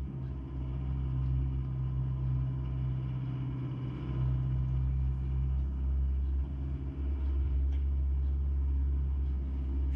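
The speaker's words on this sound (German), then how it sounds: "mit dem Auto extra da unten rumzufahren" A car's engine rumbles steadily while driving, a continuous low drone with no talking.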